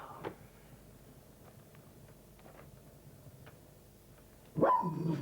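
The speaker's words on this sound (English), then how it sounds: "It's a barking dog." A dog barks faintly once, then after a stretch of quiet background a louder, closer bark bursts out near the end.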